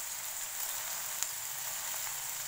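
Beef sandwich patties shallow-frying in oil in a pan give off a steady, dense hiss and crackle that stays even throughout, close and fairly loud, with one brief pop partway through.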